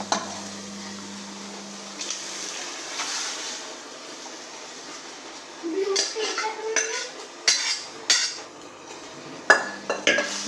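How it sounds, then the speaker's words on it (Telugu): Country chicken pieces drop into a pan of fried onion, tomato, green chilli and ginger paste, then clatter and scrape as a utensil stirs them against the metal, with a light sizzle underneath. "ఇప్పుడు ఇంకా ఈ నాటుకోడి ముక్కలు వేసేసుకుంటున్నాను"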